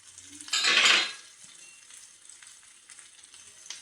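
Onion, green chilli, ginger and curry leaves hit a hot pan in a loud sizzling burst that lasts under a second, then settle to a softer, steady frying crackle, close by and without talk.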